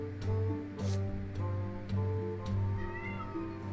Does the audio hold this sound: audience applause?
no